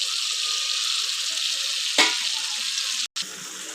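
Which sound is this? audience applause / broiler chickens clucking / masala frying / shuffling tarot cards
masala frying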